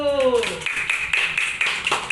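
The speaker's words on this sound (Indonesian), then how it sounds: "Tepuk tangan untuk kelompok 1." Young students clapping for a group in a third-grade classroom, rhythmic claps following a teacher's voice, moderately loud and close, with children's voices mixed in.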